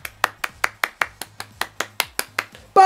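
Steady, evenly spaced hand claps, about five per second, close and crisp, ending with a sudden louder burst.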